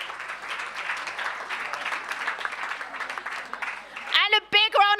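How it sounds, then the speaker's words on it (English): A room full of people at a startup pitch event in Stuttgart in 2017 applauds steadily for about four seconds, then a voice starts speaking over the last of the clapping. "And a big round of applause for Sophie again."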